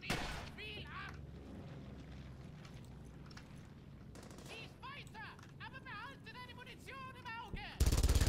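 MG42 machine gun fire in the video game Brothers in Arms: Hell's Highway, dense rattling bursts and booming gunfire in a continuous battle din, with voices talking over it.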